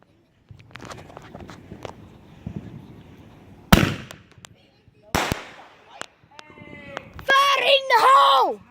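Fourth of July fireworks set off outdoors: two sharp, loud bangs from a firework bomb crack out close by amid footsteps and shuffling, followed by excited shouting and screaming voices.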